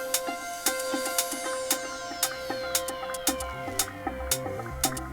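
An electronic music track with steady rhythmic hits and sustained tones rises in volume as Ableton volume automation fades it in, playing alone without voices.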